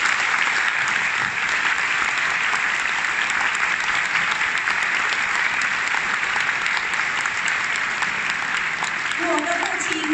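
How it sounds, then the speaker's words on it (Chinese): Sustained, dense crowd applause fills a hall at an Atomy gathering in honour of a woman's father. It stays loud and even for the full ten seconds, with a brief voice surfacing near the end. "掌声给我的父亲"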